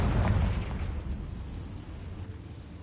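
In Hogwarts Legacy, a Confringo blast goes off as a single deep explosive boom that rolls and decays into a low rumble; no voices accompany it.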